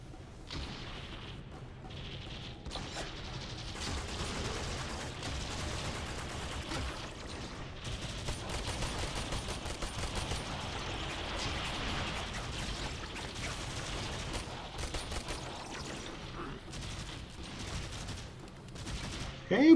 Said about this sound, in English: I'm gonna switch to my dual guns.